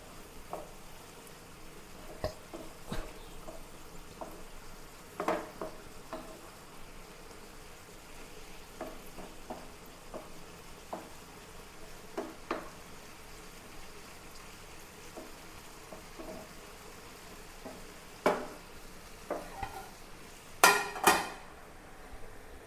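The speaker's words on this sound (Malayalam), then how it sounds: "ഇടയ്ക്കൊന്ന് ഇളക്കി കൊടുക്കാം." Long beans and carrot stir-frying in a pan, soft intermittent scrapes and taps of a spoon against metal over a faint sizzle, ending in a few louder clanks.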